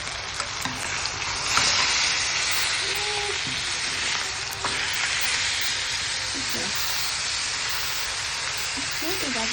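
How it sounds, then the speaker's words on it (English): Chicken sears in a hot skillet with a steady, close sizzle and crackle throughout, with light kitchen clatter and occasional background voices. "Let's get this in the skillet to sear"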